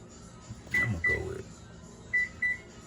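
A home oven's control panel is preset, giving a few short electronic beeps in two small clusters, along with faint handling clatter and a voice in the room.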